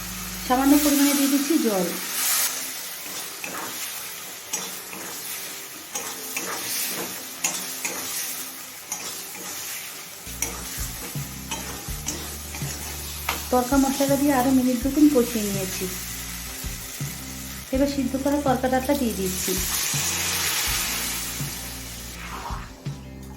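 Store-bought tarka masala and dal sizzling in a pan with chicken for a dhaba-style egg chicken tarka, stirred with a utensil that scrapes and clinks now and then, a steady frying hiss running throughout.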